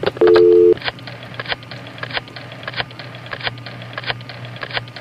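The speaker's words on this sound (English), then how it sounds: "An old rotary phone." An old rotary telephone in a mystery video game clicks through dialing with quick mechanical ticks, preceded by a short steady dial tone, close and clear.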